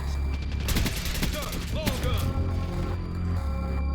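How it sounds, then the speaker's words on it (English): Rapid gunfire rattles through a Black Ops 6 match in loud, close bursts of shots with mechanical clatter, while a voice talks over the action. "How many times do I have to shoot that guy?"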